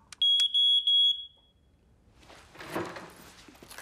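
A home smoke detector sounds three sharp, loud high-pitched beeps in quick succession, then fades into a muffled rumbling commotion.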